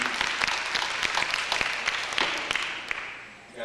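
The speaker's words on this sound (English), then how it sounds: "let's give them a big round of applause" Live audience applause after a dance and drumming performance at a community college: dense, crackling clapping from a crowd, fairly close, holding steady and then thinning out toward the end.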